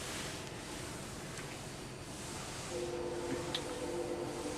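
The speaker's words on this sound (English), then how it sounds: "It's the afternoon train going by." An afternoon train passes at a distance as a steady, hissing rumble that swells slightly, with a faint sustained tonal hum joining in during the second half. No one speaks.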